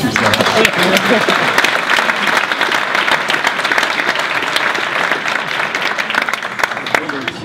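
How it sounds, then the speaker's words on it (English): Sustained applause from a large crowd at an award ceremony, steady and dense clapping throughout with no pauses, fairly loud and close. "Dr. Charles Park, to stand for our applause"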